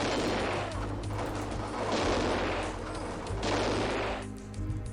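Volleys of musket and gunfire in the strategy game America: No Peace Beyond the Line crackle in dense, repeated bursts, two heavy swells of shooting over a constant low battle rumble.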